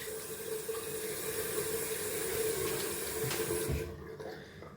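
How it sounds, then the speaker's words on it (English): Cold water runs from a tap in a steady splashing stream, with water sloshing as it is cupped and thrown onto the face, close and continuous before cutting off abruptly near the end. "Can add some cold water to the face."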